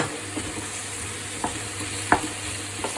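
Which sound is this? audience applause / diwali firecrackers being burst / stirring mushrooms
stirring mushrooms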